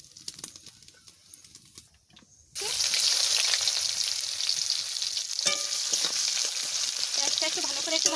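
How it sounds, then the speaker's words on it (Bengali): Cumin seeds hitting hot oil in a pan for mutton curry, a sudden loud sizzle bursting in after a quiet start and holding as a steady, close crackling fry with light stirring scrapes. "একটু ভালো করে একটু ভাজা ভাজা হোক"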